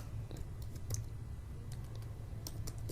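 A computer keyboard is typed on at close range in short bursts of quiet key taps over a low hum, during an HTML coding session.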